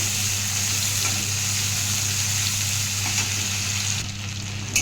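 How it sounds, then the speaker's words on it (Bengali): Chopped onion fries in a pan with a loud, continuous sizzle that stays steady, then drops away sharply near the end, followed by a small knock. "একটা কাটা পেঁয়াজ এর মধ্যে দিয়ে দিলাম। পেঁয়াজের নিচে আমি লাল লাল করে ভাজবো।"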